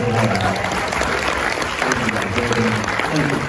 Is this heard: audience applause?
yes